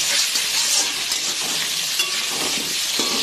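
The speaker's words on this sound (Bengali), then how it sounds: "এই যে আলুগুলোকে ভাজতে বসিয়ে দিই" Potatoes frying in a pan, a steady broad sizzle that holds evenly through the clip with no voices over it.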